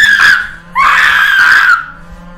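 Loud, shrill screaming from people in a rowdy scene on an Irish island, two sustained piercing bursts separated by a brief dip, close to the microphone with no talk over them.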